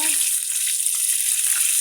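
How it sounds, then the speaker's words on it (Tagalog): Chicken frying in oil, a close, steady crackling sizzle that continues throughout. "At dito, nagpiprito rin po tayo ng manok."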